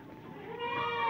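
Goats and sheep on an Indonesian livestock farm, a single drawn-out wavering bleat that swells in loudness toward the end, fairly close, with no talking.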